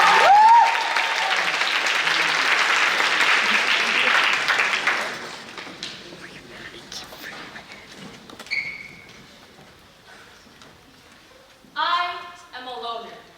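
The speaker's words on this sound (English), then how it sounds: "All right, a big round of applause for that." An audience at a speech contest applauds after a performance, a loud burst of clapping that fades within about five seconds, followed by quieter room noise and scattered voices.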